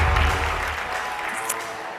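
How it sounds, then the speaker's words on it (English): Audience applause at a liveability challenge grand finale event, a dense wash of clapping that tapers off steadily over two seconds. "Please give a round of applause to Augustine"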